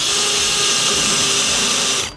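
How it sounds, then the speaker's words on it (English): A power drill fitted with a 13/64 bit bores through a small steel winch mounting bracket, giving a loud, steady whir that holds for about two seconds and then cuts off abruptly. "you're gonna go ahead and line it up and drill on through"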